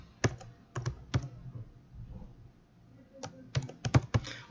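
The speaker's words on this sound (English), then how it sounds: "just simply typing it into the field." Typing on a computer keyboard while entering a new field name in a database table, heard as brisk clusters of crisp key clicks separated by short pauses, close and alone.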